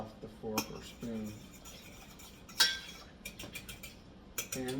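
A fork or spoon stirs in a pot of egg drop soup with bouillon, giving a few scattered metallic clinks and scrapes against the pot, close and fairly quiet.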